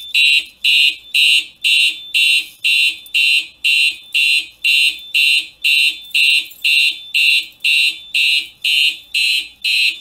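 A Simplex 4010 fire alarm system sounds during a test in a school, a loud, steady train of sharp electronic beeps repeating about twice per second, close and continuous with no talking.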